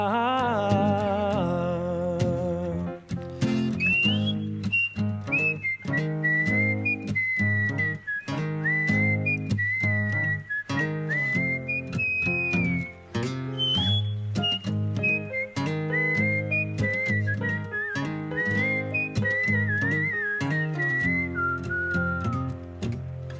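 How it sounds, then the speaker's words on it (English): A person whistles a bright, wavering melody over a steady instrumental backing track with a strong beat, clear and close. "he's no Rob on the whistling"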